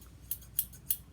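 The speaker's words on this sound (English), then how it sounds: "I have one wonderful set of scissors that I use only for ribbon." Three crisp, evenly spaced snips of scissors kept only for cutting ribbon, sharp and close with nothing else heard.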